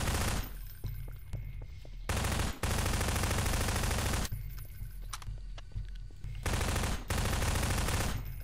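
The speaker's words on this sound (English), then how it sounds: "If we summon him again, start shooting the shit out of him." Rapid automatic gunfire from a video game, likely a pulse rifle, fires in loud sustained bursts broken by brief pauses, with no talk over it.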